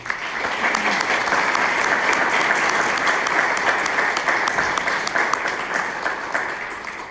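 An audience at an endowed scholarship luncheon applauds a student honoree, with steady, full clapping from many hands that runs throughout and fades slightly at the end.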